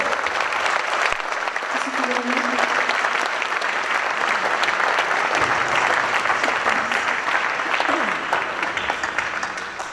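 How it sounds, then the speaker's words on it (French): A crowd of friends and volunteers applauds at an awards ceremony in Saint-Laurent-de-Gosse, dense, sustained clapping that fills the room for the whole stretch, with faint voices mixed underneath. "je voudrais que vous applaudissiez Gérard"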